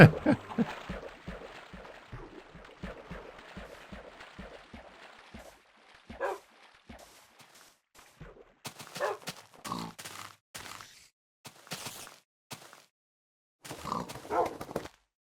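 In the Minecraft game Far Lands or Bust, a dog gives repeated soft yips and barks mixed with pig grunts, a rapid stutter of short sounds that thins into scattered bursts at moderate volume.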